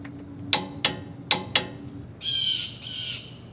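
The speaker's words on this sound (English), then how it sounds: "Oh, the bird was really loud." A loud bird calls nearby outdoors during a truck suspension install, giving four sharp, evenly spaced squawks followed by two longer, harsher caws.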